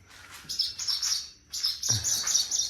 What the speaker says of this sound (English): Are you a big bird or a little bird?